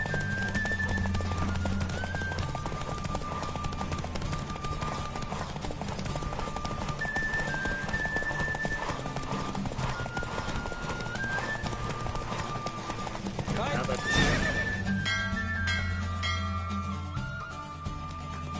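Galloping horse during a race in The Witcher 3 video game: rapid, steady hoofbeats with occasional neighs over game music, holding a constant pace throughout.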